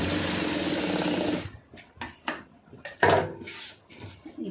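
A sewing machine stitches blouse lining in a fast, steady whirring run for about a second and a half, then stops, followed by scattered clicks and handling sounds of fabric and parts.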